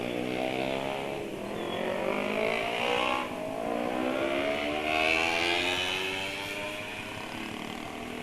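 A motorcycle engine idles smoothly and steadily after a long-overdue oil change, its tone rising and falling gently without any knocking, close and fairly loud with no talk over it.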